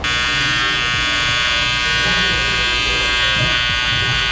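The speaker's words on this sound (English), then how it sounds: "I go in with my saber clipper, lever closed" Electric hair clipper with its lever closed, used by a barber cleaning up a client's hair before a taper fade; a steady, close, loud buzzing hum runs unbroken throughout with no talk.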